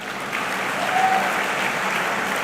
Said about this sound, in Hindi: तालियां हो जाए एक बार जोरदार।